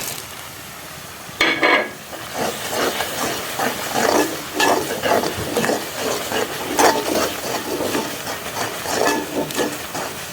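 A utensil stirs a pumpkin mixture for Dubai pumpkin dosi in a frying pan, making repeated irregular scraping strokes over a soft sizzle at close range.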